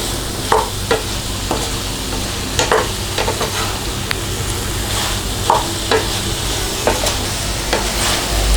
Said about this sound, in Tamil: இது எல்லா சிக்கனையுமே இது கூட ஆட் பண்ணிக்கலாம். இது வந்து நல்லா மிக்ஸ் பண்ணுங்கள்.